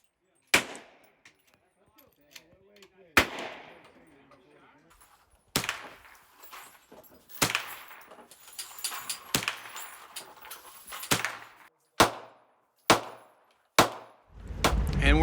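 Gunfire at an outdoor shotgun and pistol-rifle range in Ocala National Forest: about a dozen sharp, loud reports spaced irregularly, each with a short echoing tail, the later shots coming in quicker succession.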